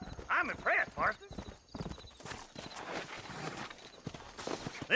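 A horse in the Western video game Red Dead Redemption whinnies loudly twice near the start, followed by rhythmic clip-clop hooves and ambient game sound, with voices talking over parts of it.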